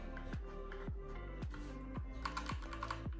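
A computer keyboard is typed on in a gaming setup, giving a steady run of close, crisp key clicks with regular heavier thumps about every half second and no voices.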